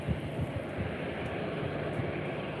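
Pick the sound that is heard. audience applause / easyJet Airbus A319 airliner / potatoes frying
easyJet Airbus A319 airliner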